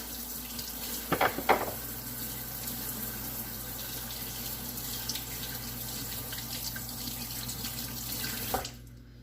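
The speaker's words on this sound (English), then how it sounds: "let me wash my hands. Get this butter off." Hands being washed under a running kitchen tap, a steady close rush of water splashing into the sink for several seconds, with a few louder splashes as the hands move, then the flow stops abruptly.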